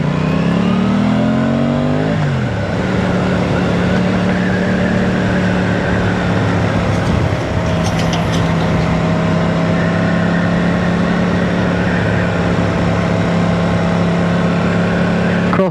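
An Aprilia Tuono 660 Factory motorcycle rides through London at night, its engine loud and close. It revs up, drops as the rider shifts, then holds a steady droning hum under the wind.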